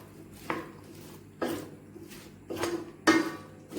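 Popcorn being stirred through a caramel coating in a pot, with four separate scraping knocks of the spoon against the pot, spaced about a second apart, close and moderately loud, with no talk.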